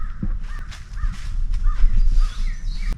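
Harsh caws from a crow ring out at a campsite in a short run of calls, set against loud low wind rumble that partly masks them.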